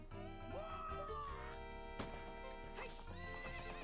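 Horse in the video game Ocarina of Time, with a loud whinny over steady clip-clopping hooves and game music, a sharp accent near the middle, continuous throughout.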